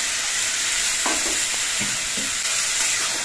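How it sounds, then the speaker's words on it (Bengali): Vegetables and potatoes sizzling loudly in a pan as broth is poured in for a bhola fish chorchori, a constant bright hiss with a few soft scraping stir strokes in the middle. "এবার এর মধ্যে অল্প করে একটু ঝোল দিচ্ছি যাতে সবজিগুলো ঠিকঠাক সেদ্ধ হয়।"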